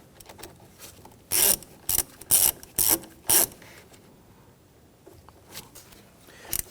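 A ratchet snugs down the securing nut on the positive terminal of a 2011-2015 Kia Sorento starter, giving five quick, loud bursts of clicking in a row, then a quieter tail with a few soft clicks.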